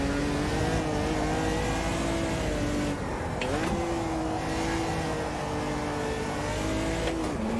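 Chevrolet Opala 86 race car in the Automobilista 2 sim game, its engine droning steadily and loud throughout, the pitch rising and dipping with gear changes, with a brief drop near the middle.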